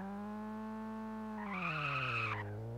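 A car in the racing game Nitro Speed skidding hard under braking: a steady engine drone with strong harmonics, then a loud, rising tire squeal that holds for about a second before the engine pitch drops away.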